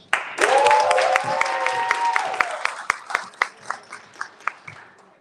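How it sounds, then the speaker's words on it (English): Audience applause for Amanda Shea at a live community event: a sustained cheer and clapping swell, including a whooping voice, that thins into a handful of separate claps, moderately close. "let's give a round of applause to Amanda Shea"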